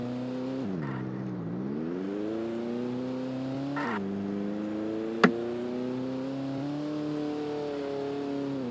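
A car engine in the Roblox video game hums and rises in pitch as the car drives, dipping and revving again a few times. The engine sound is continuous and near, and there is one sharp click partway through.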